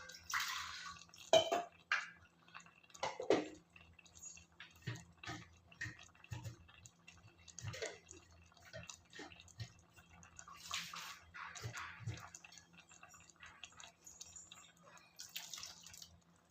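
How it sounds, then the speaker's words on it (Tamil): Soaked cashews and poppy seeds rinsed in water in a kitchen, with faint irregular splashes, drips and sloshing in a bowl, quiet and close, no talking. "கொஞ்சம் தண்ணி விட்டு அலம்பிக்கலாம்"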